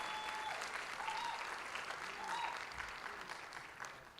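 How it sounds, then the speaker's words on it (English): Applause from a commencement crowd at Bronx Community College, a steady wash of many hands clapping at moderate distance, with faint whistles and cheers rising briefly over it before it tapers. "See, I didn't even have to prompt you to clap."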